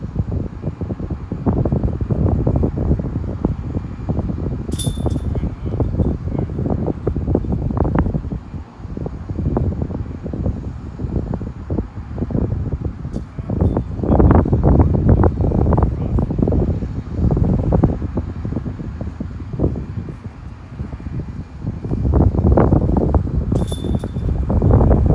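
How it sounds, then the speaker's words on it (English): Strong outdoor wind on a disc golf course at Beal Park, loud gusty buffeting against the microphone that rises and falls continuously, with no talk. "Now the wind is getting closer to a straight headwind."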